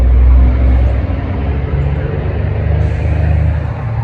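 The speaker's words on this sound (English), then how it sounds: "Guess you can hear that truck." A truck rumbles nearby with a deep, steady low-frequency drone, louder at first and then holding at a constant level. No voices are heard.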